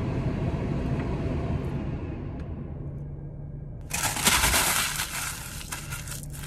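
Car air conditioning switches on inside a moving car on a hot day: low engine and road rumble, then a sudden loud, steady airy hiss from the vents that fills the cabin.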